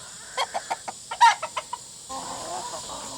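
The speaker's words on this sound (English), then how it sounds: "now it's nothing but roosters" Several short, sharp chicken clucks come in quick succession from a pen of roosters, then a softer murmur of birds continues in the background.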